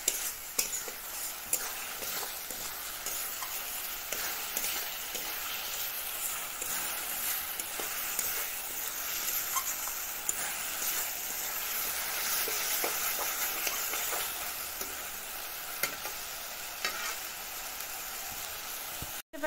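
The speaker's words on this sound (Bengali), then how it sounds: "তো চলো এটাকে কিছুক্ষণ ফ্রাই করে নিই" Masala for Bengali chicken kosha frying in a pan, a soft, steady sizzle with occasional light stirring scrapes running evenly throughout at a fairly low level, with no speech.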